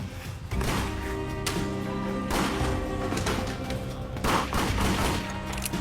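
Gunshot sound effects accompany pretend target shooting with a homemade gun on a reality TV show: loud, rapid bursts of gunfire that keep up almost without pause, with a few sharper volleys standing out.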